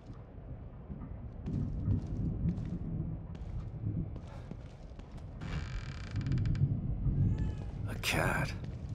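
Cat meowing in the horror video game The Evil Within 2, a brief cry near the end amid creaks and low ambient rumble, with a voice talking over parts of it.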